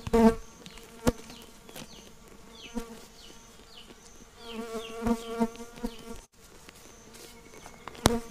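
Boca-de-renda bees buzz steadily inside a hive box while a colony is being split, a dense, close, agitated drone with a few sharp knocks and clicks against the box.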